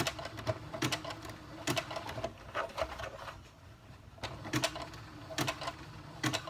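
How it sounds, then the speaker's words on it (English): Slow sewing machine stitching through stretchy fabric for a water sling, soft close clicking and whirring in short bursts of needle strokes with brief pauses between runs. "Now we're gonna put our needle down and we are going to slowly start stitching."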